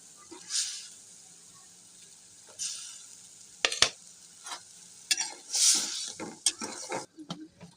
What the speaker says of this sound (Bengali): মশলার সাথে আমরা আলুটাকে একসাথে কষিয়ে নেবো